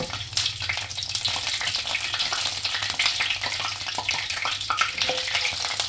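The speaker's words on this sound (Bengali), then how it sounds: "জিরাটা একটু ভাজা হলো।" Sweet cumin seeds fry in hot oil with a close, continuous crackling sizzle, dense little pops spread evenly throughout without any talk.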